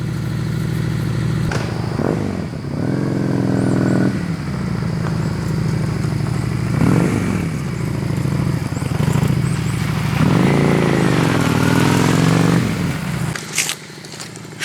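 A motorcycle engine runs throughout while travelling, rising and falling in several revving swells that come and go every few seconds, fairly loud and close, with wind and rattling mixed in and no voices.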